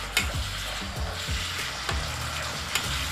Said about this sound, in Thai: คนให้เข้ากันนะคะให้พริกแกงกับหมูบดเข้าเนื้อกัน